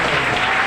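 A church congregation in Navsari applauds loudly, a dense, steady wash of clapping filling the whole short moment with no voices standing out.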